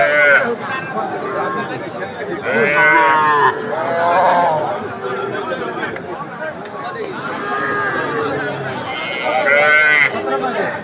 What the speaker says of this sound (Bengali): বকনা বাছুর